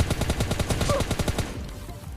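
Rapid automatic gunfire in a battle royale video game, a loud close burst of evenly spaced shots that stops partway, leaving a fading tail.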